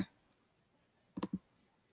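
Computer mouse clicking while a Google Drive folder is created: a few faint, sharp clicks, a soft pair early on and then a quick cluster of three near the end, against quiet room tone.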